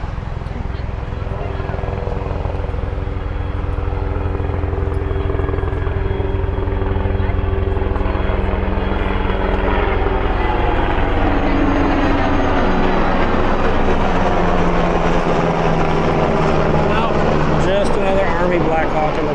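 A Black Hawk helicopter flying over a river, a loud, continuous rotor and engine roar that builds and shifts in pitch as it passes, with a voice talking over it.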